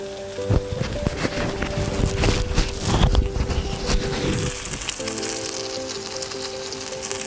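Steady crackling sizzle of a bacon avocado grilled cheese sandwich frying in a pan, close by, with bursts of popping and spitting that settle into a softer hiss.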